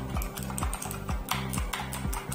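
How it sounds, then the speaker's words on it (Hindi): Typing on a Motospeed CK888 mechanical gaming keyboard with an aluminium body gives close, crisp clacking keystrokes in quick irregular bursts, without any talk. "यहाँ पे कीबोर्ड हमें मिल जाता है जो कि एक मैकेनिकल कीबोर्ड है"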